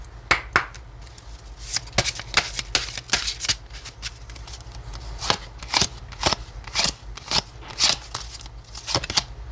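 Lenormand cards are shuffled and dealt in sharp, crisp riffles and slaps, repeated bursts of close card noise over a low steady hum, with no voices.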